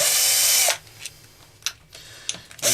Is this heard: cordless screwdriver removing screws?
yes